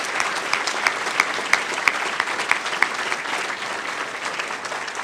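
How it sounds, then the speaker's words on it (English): Audience applause at a 2010 Chicago Public Schools event, a dense, steady wash of clapping from many hands with a few sharper claps standing out, sustained at an even level throughout. "Let's give her a round of applause."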